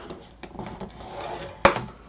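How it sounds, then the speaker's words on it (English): A scoring tool is drawn across 5x7 paper cards, producing soft, close scraping rubs followed by a single sharp tap or clack near the end. "We're going to score these at 1/2 inch on the 5-inch side."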